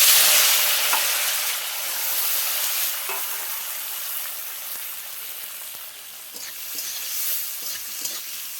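Chopped onion and tomato hit hot oil in a pan, giving a loud, bright sizzle that fades slightly and then settles into a steady crackle with scattered soft stirring taps.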